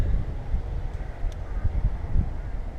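Strong wind buffeting a microphone outdoors on a roadside during a cycling ride, a steady low roar with gusty swells throughout, loud and alone.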